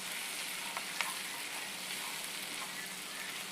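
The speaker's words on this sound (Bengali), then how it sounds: "যে রসুনটা ভাজা ভাজা একটু হবে।" Garlic frying in a pan for a desi chicken curry, a steady, close, even sizzle with a faint stir or clink now and then, no voices.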